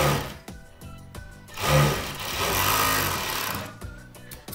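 A sewing machine stitches the shoulder seam of a child's coat, its motor whirring in short bursts and then a longer continuous run, close and loud with no talk.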